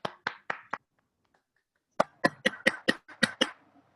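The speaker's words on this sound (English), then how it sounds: "Applause, everyone." Small meeting audience at a Toastmasters club clapping, four distinct claps, a pause, then about eight more sharp individual claps in a loose rhythm, close and fairly clear.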